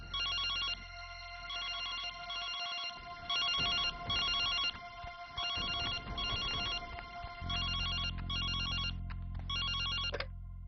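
A telephone rings in repeated double bursts of bright electronic trills, steady and fairly close, with a low hum beneath and no talking.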